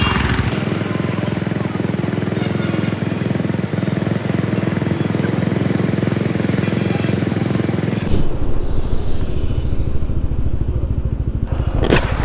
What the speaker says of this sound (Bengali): এদিকে তামিমরা ঢোকাই দিচ্ছে ওই দিক দিয়ে বাইক।